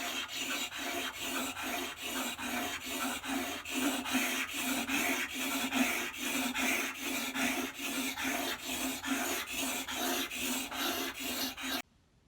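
Woodworking plane blade being sharpened, a steady loud rasping scrape in even back-and-forth strokes lasting the whole stretch, then stopping abruptly at the end.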